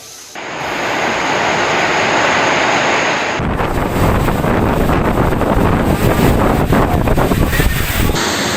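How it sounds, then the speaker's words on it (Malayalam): Cyclone winds over the Arabian Sea off the Kerala coast: a loud, continuous roar of wind buffeting the microphone, mixed with the rush of heavy waves and surf, with no voices. "അറബിക്കടലിൽ രൂപപ്പെട്ട ന്യൂനമർദ്ദം ചുഴലിക്കാറ്റായി"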